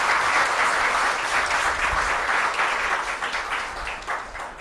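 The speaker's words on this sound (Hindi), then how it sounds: "जोरदार तालियां।" Loud, sustained applause from an audience at a ceremony in Dehradun where the President presents low-vision glasses on stage, dense clapping filling the whole stretch and easing slightly toward the end, with no talk over it.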